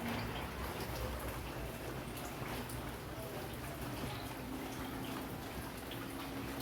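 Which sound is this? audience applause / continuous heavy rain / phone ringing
continuous heavy rain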